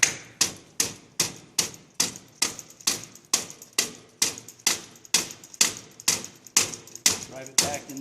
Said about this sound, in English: Take our hammer,